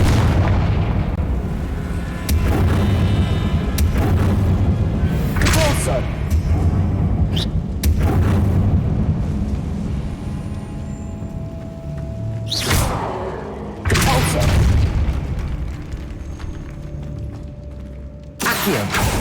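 Confringo fire spell blasts in Hogwarts Legacy, loud booming explosions at intervals amid a busy game soundscape with music, near and punchy, several separate bursts across the span.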